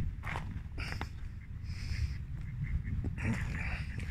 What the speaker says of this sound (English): like there's some more ducks up ahead now.